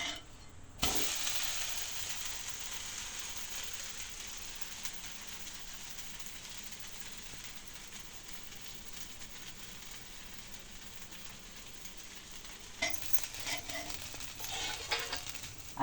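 An amboli pancake cooks on a covered pan, making a steady soft sizzle that hisses like light rain, with a sharp clatter near the start and a few knocks toward the end; no talking.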